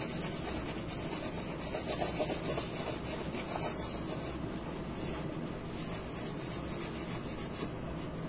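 Steady rubbing and scrubbing of a shoe with soap, a continuous brushing friction sound at moderate level with no pauses, no voices present.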